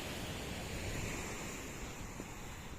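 Sea waves washing ashore at Dingalan beach in Aurora, a steady close surf roar mixed with wind, with no voices.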